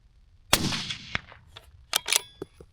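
A rifle fires at a paper target on a range: one loud sharp report, then a few quieter cracks and metallic clinks in an uneven sequence, close and otherwise quiet.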